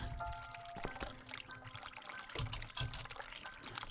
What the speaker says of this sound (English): hear the water running. I must hurry.